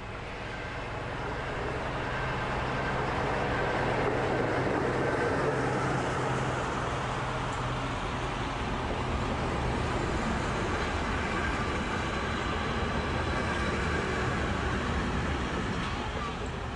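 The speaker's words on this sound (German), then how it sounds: "Auch die V60 hat mit der Steigung ihre liebe Mühe." A 1957 Maschinenfabrik Esslingen DB V60 diesel locomotive labours up a gradient on a museum railway, giving a steady, loud, broad engine rumble and rolling noise that holds throughout with a low droning tone.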